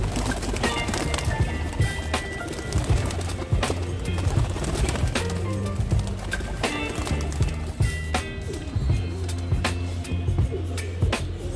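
Pet pigeons in a netted enclosure make a busy mix of low cooing, fluttering and scattered clicks and knocks, layered and continuous at close range with no talk.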